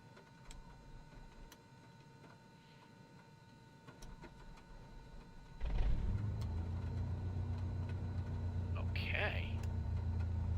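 A Tecnam P2010 light aircraft engine, 180 horsepower, in a flight simulator turns over with a few faint ticks and clicks, then catches about halfway through and settles into a steady low drone; someone talks briefly over it.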